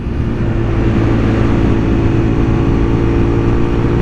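A car engine revs hard and close, a loud, steady high-rpm roar that holds near its peak for several seconds without any talking.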